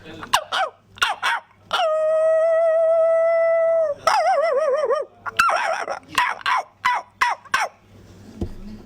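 A voice imitates a small puppy yipping and whining in a rapid series of close, high yelps, broken up by one long, sustained whine and a wavering howl-like cry.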